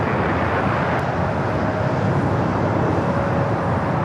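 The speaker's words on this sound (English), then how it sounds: "Airman 330-200 taking off on 24 left" An Airbus A330-200 takes off on runway 24 left at LAX, a steady, loud jet roar with broadband rumble that holds constant for several seconds without any talk.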